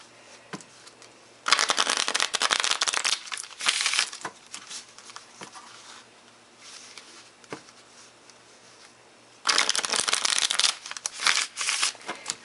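Tarot cards are riffle shuffled up close: two long bursts of fast, crisp fluttering clatter, with quieter tapping and handling between them, no talking.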